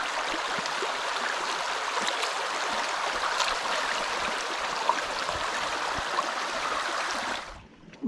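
The Mumpong river flows in a steady, close rushing wash of water with small gurgles and splashes, continuous until it drops away abruptly near the end.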